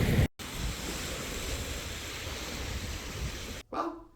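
Broadband wash of Great Lakes waves breaking on shore, a steady loud surf roar with wind buffeting, cutting out briefly near the start and again near the end.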